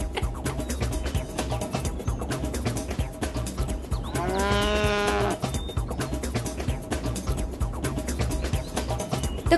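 A cow gives one long, clear moo in the middle, loud and close, over a steady background of music with no talking.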